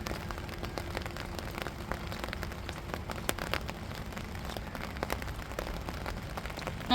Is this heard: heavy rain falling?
yes